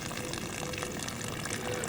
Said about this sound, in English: here's my last flush, and it looks like it's coming out clear now